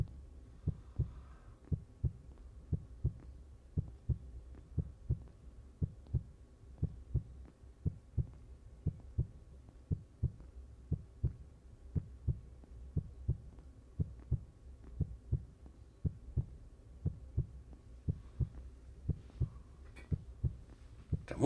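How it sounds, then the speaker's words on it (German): A slow, steady heartbeat pulses throughout a survival horror game, low muffled double thumps repeating evenly and close, alone with only faint ambience beneath. "Der Herzschlag ist ja nicht umsonst da"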